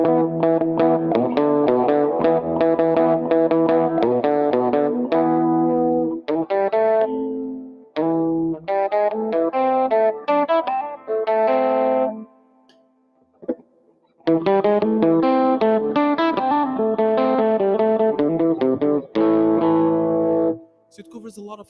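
A Yamaha Pacifica 112VM electric guitar on its bridge single-coil pickup plays a driven, distorted riff of chord stabs and single notes, close and loud, broken by short gaps of silence.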